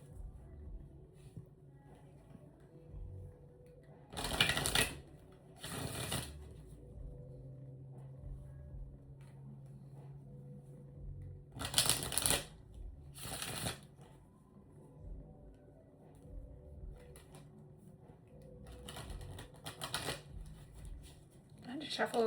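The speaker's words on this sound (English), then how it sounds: "I had to shuffle those cards a lot." Tarot cards being shuffled by hand, two pairs of loud riffling bursts each lasting about a second, close up, separated by quieter stretches with a low background rumble.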